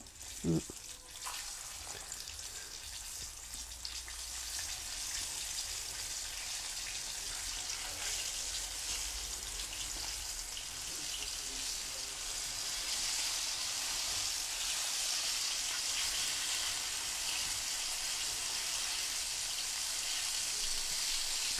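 Steady hiss and crackle of Korean-style fried chicken in hot oil on its first fry, continuous and fairly loud, with a sharp clatter near the start.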